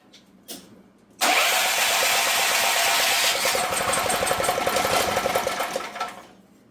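A small portable generator with a previously seized motor is pulled and catches almost at once, then runs steadily and loudly with a fast, even engine buzz before cutting out near the end; no talking.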